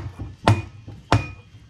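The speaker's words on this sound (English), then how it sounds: "Here's the tool. Dead blow hammer." Two heavy thuds from a dead blow hammer hitting a part of a Yamaha golf cart engine during a rebuild, close and solid, spaced about half a second apart with a brief ring after each blow.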